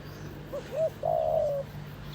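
A wild bird calls close by in soft cooing notes: two short coos, then one longer drawn-out coo, over a low, steady background hum with no speech.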